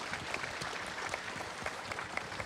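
Audience applause at the 8th memorial ceremony for President Roh Moo-hyun in Bongha Village: a faint, distant, steady patter of many hands clapping.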